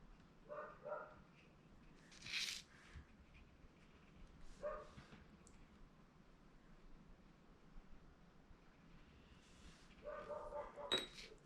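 Intermittent barking from a distant dog, several short bursts spaced across the clip and fairly faint, heard over a quiet room during a watercolor painting session.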